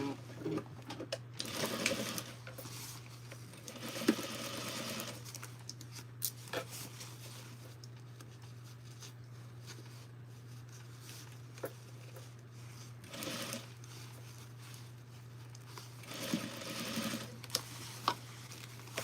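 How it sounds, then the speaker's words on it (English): A sewing machine stitches a yoke to a back pant piece in quiet bursts of rapid whirring, separated by pauses with faint handling sounds and a steady low hum. "let's sew this one side"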